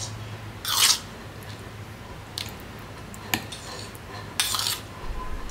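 A spoon scoops mango pulp into a mixer grinder jar for aam panna paste. Two bright clinks of metal on the jar are spread apart, with a sharp tap and faint wet squishes between them.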